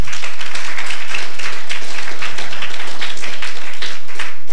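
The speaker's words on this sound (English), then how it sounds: "we should give them a round of applause." An audience at a moot court competition gives panelists a loud, close round of applause, with rapid dense clapping continuing throughout.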